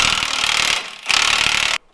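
A heavy power tool, the big gun, buzzes hard against a bolt on an old Jeep in two loud sustained bursts with a brief dip between, cutting off abruptly.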